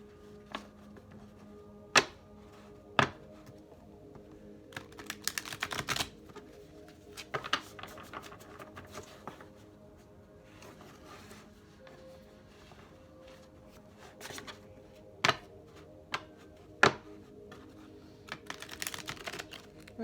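Sharp, quiet riffles and taps of tarot cards being shuffled come in scattered bursts, with soft handling noise between them and no talking.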